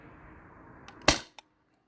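A single sharp pop from a Sabre 68 HDL paintball marker running on HPA, near and loud, followed by a brief fainter click and then silence.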